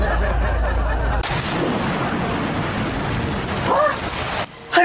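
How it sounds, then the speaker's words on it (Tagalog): Heavy rain pours down in a steady, dense roar that starts abruptly and fills the scene, loud and close, with a brief voice rising over it before it cuts off. "Hala, ang lakas ng ulan."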